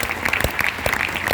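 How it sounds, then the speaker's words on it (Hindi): An audience claps in a brief, dense burst of applause, close and lively, with no voices over it. "उनके लिए एक बार जोरदार ताली होना चाहिए।"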